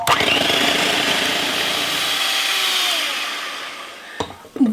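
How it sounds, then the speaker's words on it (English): A loud electric blender whirs steadily at high speed for several seconds, mixing rhubarb and strawberry ice cream to stiff peaks, its motor tone slowly dropping, followed by a couple of brief clunks. "I'm going to be putting my blender on high speed and keep mixing it until it's got stiff peaks."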